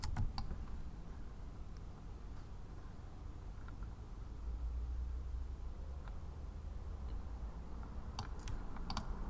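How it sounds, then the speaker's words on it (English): Quiet, sparse keystrokes on a computer keyboard as shortcuts are used during 3D character modelling: a few scattered clicks at the start and a quick burst near the end over a soft room hum. "But look, I'm using keyboard shortcuts"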